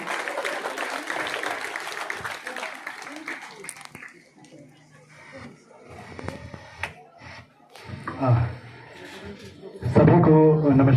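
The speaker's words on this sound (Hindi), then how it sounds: "जोरदार तालियों से इनका स्वागत करें।" An audience at a regional girls' kabaddi meet of the Navodaya schools applauds to welcome the chief guest onto the stage. The clapping is dense for about four seconds, then gives way to quieter shuffling before a voice begins speaking.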